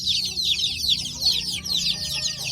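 Free-range native chickens on a Philippine farm cluck and chatter nearby in a dense, overlapping flock, with soft background murmur.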